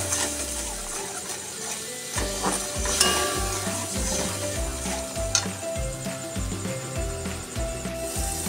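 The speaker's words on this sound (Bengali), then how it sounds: "তারপর সব মশলাগুলো এর মধ্যে দিয়ে আর একবার ভালো করে কষিয়ে নেব।" Spice paste being stir-fried (koshano) in a kadai, a soft sizzle under repeated scraping and stirring strokes of a spoon against the pan, close and rhythmic, with no talk.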